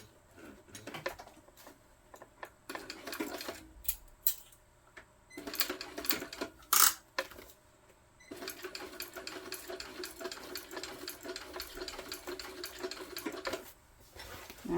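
A sewing machine topstitches the accent piece of a Rachel tote bag in intermittent runs, with clicks and pauses between short bursts and a longer steady whir at the end.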